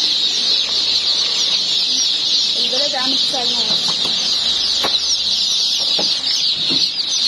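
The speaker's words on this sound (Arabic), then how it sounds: "فراخ رزي وفراخ يومي" Chickens cluck in short bursts under a steady high hiss, while someone talks nearby in a busy, noisy poultry shop in Egypt.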